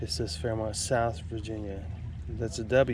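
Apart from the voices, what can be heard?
No distinct noise like a dog, phone or traffic.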